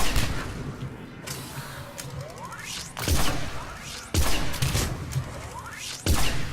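Arc Pistol shots in Mass Effect 3 multiplayer, sharp loud cracks arriving roughly once a second over a dense, noisy battle bed with whooshing electric zips and impacts.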